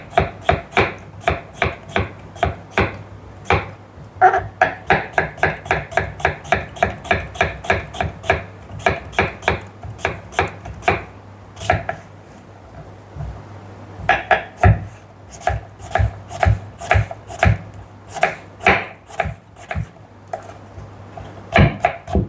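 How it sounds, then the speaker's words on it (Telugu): Beetroot being sliced thinly with a knife on a board, rapid rhythmic chopping knocks in quick bursts with short pauses, close and crisp, with no talking. "ఇప్పుడు ఈ బీట్రూట్ని వీలైనంత సన్నగా కట్ చేసుకుందాం"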